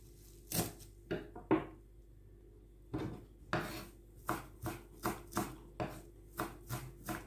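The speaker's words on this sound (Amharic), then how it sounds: "አሁን የናና ቅጠሉን ወይም ደግሞ የሚያምት ቅጠል ይሄ እየከተፍኩኝ ነው።" Mint leaves for tabbouleh are chopped on a board with a knife, a few close, sharp chops, a pause, then a steady run of rhythmic strikes.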